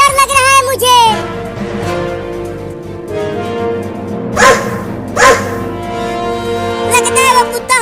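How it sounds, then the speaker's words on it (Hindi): Large cartoon dog barking loudly in a few sharp barks amid music and a child's frightened speech, close and prominent. "अरे बाप रे, एक बड़ा कुत्ता मुझे खाने के लिए आ रहा है।"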